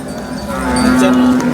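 A single loud, close cow moo at a cattle market, low and drawn out, rising slightly as it holds for over a second.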